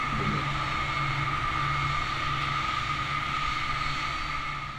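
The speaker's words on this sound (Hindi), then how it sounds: "रिफ्यूलिंग करने के बाद प्लेन को पुश बैक करने का प्रोसेस स्टार्ट हो जाता है" An airliner drones steadily during pushback before taxiing, with engine hum and a high whine holding loud and even throughout, with no voices.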